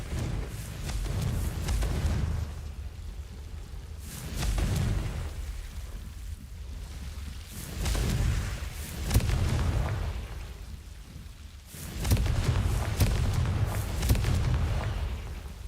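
Repeated explosive blasts of the Confringo fire spell in Hogwarts Legacy, deep booming bursts recurring every few seconds with rumbling tails, loud and close.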